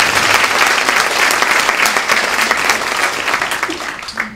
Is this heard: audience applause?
yes